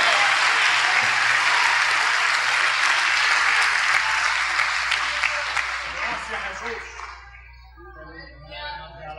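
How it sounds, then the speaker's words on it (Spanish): A large church congregation claps loudly and continuously, the applause gradually thinning out and fading near the end as a voice begins to come through. "Denle un aplauso al Señor Jesucristo."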